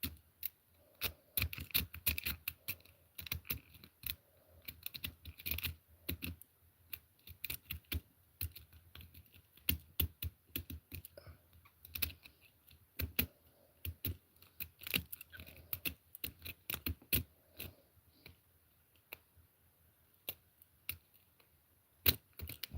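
Metal picks raking the pins inside a handcuff lock, a quick, dense run of small clicks and scratchy ticks in irregular bursts, close and fairly quiet, with no talking.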